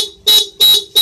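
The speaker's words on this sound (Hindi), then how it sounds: "और ये भी हॉर्न है" Horn on an Okinawa electric scooter blares in three short, loud, evenly spaced honks, close up and alone.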